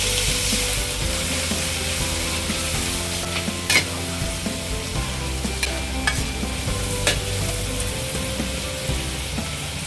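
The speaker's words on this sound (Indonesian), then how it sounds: "Ini kita tumis sebentar." Shrimp and squid stir-frying with green beans, a dense continuous sizzle with a few sharp spatula clanks against the pan, close up and with no talking.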